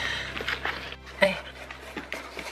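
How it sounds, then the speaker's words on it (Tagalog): A lively pet dog named Cooper pants and whimpers at close range in short, uneven bursts, mixed with light scuffling and shuffling movement nearby. "Ito talaga yung aso namin. Napaka kulit."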